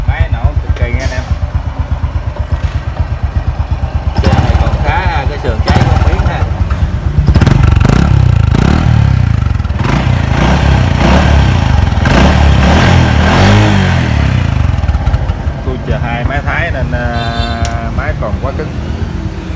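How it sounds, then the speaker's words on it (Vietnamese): A Honda Future 2 motorcycle with 125 trim and GS wheels idles and revs hard, its loud, close engine note rising and falling steadily throughout. "Máy nổ cực kỳ nha anh em."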